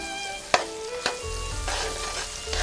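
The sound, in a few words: onions and bell peppers frying in oil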